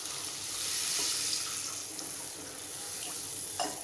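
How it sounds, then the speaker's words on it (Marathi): Water is poured into a cooking pot of spiced oil with turmeric, asafoetida and coriander-cumin powder. The pour makes a steady close rushing stream over a faint sizzle, with a couple of small splashes near the end. "आणि पाणी घालून घ्यायचं आहे।"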